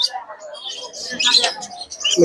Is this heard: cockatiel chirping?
yes